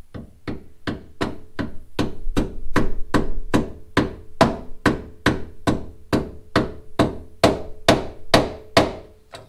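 Replacement GM door hinge bushings being tapped in on a two-door Tahoe: about twenty sharp, ringing metal hammer strikes in a steady, even rhythm, close and loud with no talking.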